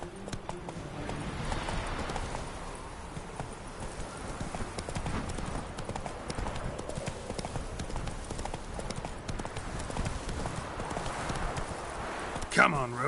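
Geralt's horse Roach gallops in The Witcher 3, a steady, fast drumming of hooves carried on throughout, with voices talking over it.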